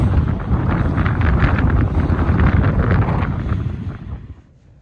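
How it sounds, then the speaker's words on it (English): Strong wind in Texas roars and buffets the microphone with heavy low rumble and gusting, steady for most of the clip before suddenly dropping away near the end. "It is freaking windy"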